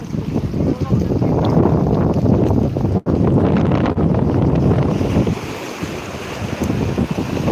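Strong wind buffets the microphone over rolling surf at Digha beach in West Bengal, where a river meets the sea. The roar is loud and continuous, with a brief dropout midway.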